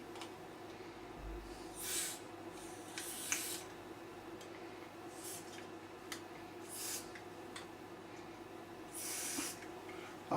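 Contact cleaner is sprayed in several short hissing bursts onto the push-to-talk switch of a radio, with quiet clicks and handling noise between the sprays.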